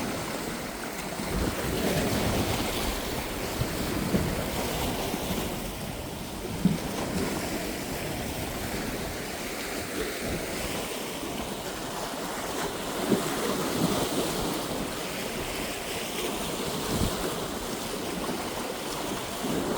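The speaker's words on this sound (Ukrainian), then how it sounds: "Хвиля така, прямо б'є по цьому місточку." Sea waves slap against a small fishing pier at dawn, a continuous rolling wash with gusty wind noise on the microphone and a few soft thuds as the water hits the structure.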